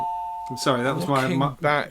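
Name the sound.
doorbell ringing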